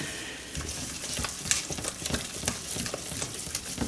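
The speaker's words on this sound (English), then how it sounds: "I'm just now going to blend it in to my roux and start building the sauce up" Milk being stirred into a roux for a cheese sauce for macaroni cheese, with close, steady scraping and swirling from the pan and soft clinks running through the whole stretch.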